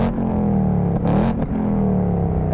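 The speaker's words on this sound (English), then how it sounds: "And the exhaust note is just as good." A Ford Mustang Mach 1 with a naturally aspirated 5-liter Coyote engine idles with a deep exhaust burble, then gives one sharp, loud rev near the middle before settling back to a rumbling idle.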